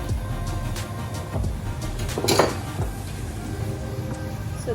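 Spoon stirring sugar into sweet yellow rice in a metal pot, a series of scraping clinks and knocks against the pot with one louder clatter midway, close and fairly crisp.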